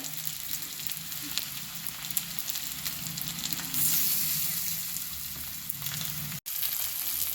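Fish pieces fry on a hot tawa with a dense, steady sizzle that swells a little partway through. The sound is close and continuous, with one brief dropout near the end.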